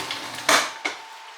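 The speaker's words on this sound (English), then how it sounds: "I'm gonna go ahead and cut up and mash my avocado" Two sharp, close clatters of a metal avocado tool against a dish or board while an avocado is cut and mashed in a home kitchen, with quiet background between them.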